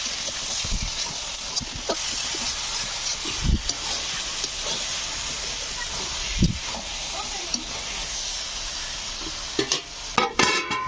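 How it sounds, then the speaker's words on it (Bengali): Potatoes and eggplant cook in a pan, giving a steady hiss and sizzle with scattered scraping knocks of stirring, close and moderately loud throughout. "একটু করে ঢাকা দিতে থাকবো আর নাড়তে থাকবো"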